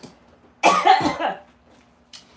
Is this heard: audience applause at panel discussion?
no